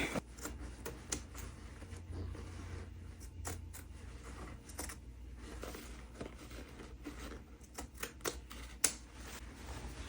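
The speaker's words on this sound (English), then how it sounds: "cutting off the waistband." Scissors cut away the waistband of a denim skirt in a quick run of crunchy snips and scrapes, close and fairly quiet, with no talk.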